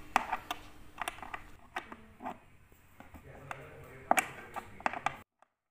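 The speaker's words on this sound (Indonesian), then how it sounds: "Kami akan melepas satu persatu baut tersebut untuk nantinya mengangkat penutup atas dari drum tersebut." Bolts being unscrewed from the top cover of a washing machine drum (WH 1093i), giving a series of faint, close metallic ticks and scraping clicks in short bursts, with small rattles and pauses between turns.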